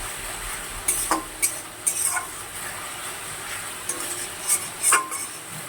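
Whole green chillies and spices sautéing in oil in a pan make a soft, steady sizzle, while a spoon scrapes and clinks against the pan in several quick, sharp strokes.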